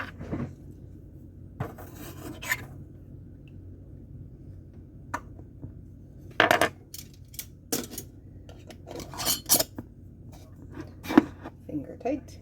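Metal lids twisted onto glass canning jars filled with maple cinnamon glazed carrots make scattered close rasps, scrapes and sharp clicks, with short bursts of contact noise spread across a quiet background.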